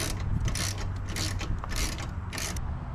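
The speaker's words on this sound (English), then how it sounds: "let's reinstall the stock air intake duct using a 12mm socket to secure the two bolts into" A ratchet turns a 12mm socket to tighten the two bolts holding the stock air intake duct on a 2002-2007 Subaru Impreza, giving rhythmic bursts of close clicking repeated about every half second.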